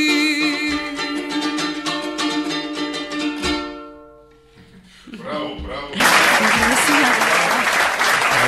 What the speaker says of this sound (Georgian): აპლოდისმენტები ფატის